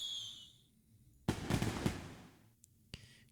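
Fireworks bursting in the Nikke 2X2 LOVE video game, a cluster of sharp crackling pops around the middle followed by a few fainter, separate bangs, with no voices.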